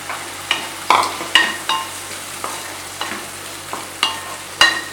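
Mushrooms stir-fried in a hot pan for a spicy vegetable paya, with steady sizzling and repeated sharp scrapes of a spatula at an irregular rhythm, close and fairly loud, no talking.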